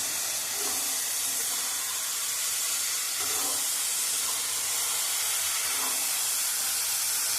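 Vegetables sauté with onions in a pan, giving a constant broadband hiss like steam, with faint scraping stirs now and then throughout.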